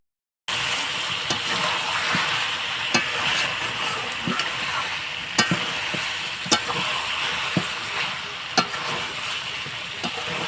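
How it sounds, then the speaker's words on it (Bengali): Chicken pieces sautéing in their own released fat in a pan for an oil-free chicken curry, with a continuous loud sizzle and occasional sharp spatula knocks against the pan. "চিকেনে যা তেল ছিল সেই তেলেই রান্না হয়ে যাচ্ছে। খুব ভালো করে একটু কষিয়ে নেব।"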